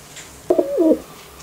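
A single deep coo from a large pigeon, a low warbling call of about half a second rising and dipping in pitch, close and clear over a quiet background with no talking.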